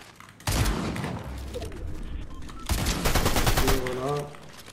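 Gunfire in the video game Fortnite, Unreal ranked solo mode, two loud close bursts of rapid automatic shots, the second longer, with a voice talking underneath.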